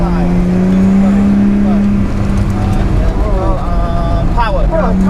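Car lapping a wet Oulton Park race track: a loud, close engine note that rises and falls through gear changes, with spray-like hiss underneath and an instructor talking over it.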